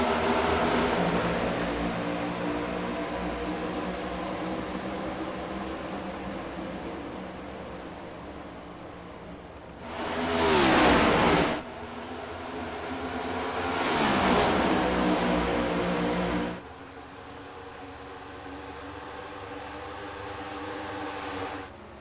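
Race cars in the iRacing video game accelerating from a green flag start, a dense buzzing engine roar that swells in two loud surges as the field launches, then drops to a steady drone.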